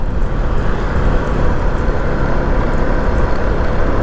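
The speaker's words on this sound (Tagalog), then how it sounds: "Ba, aeroplano, oh. Palapag na." An airplane coming in to land, heard as a loud, continuous broadband roar with no pauses or talking.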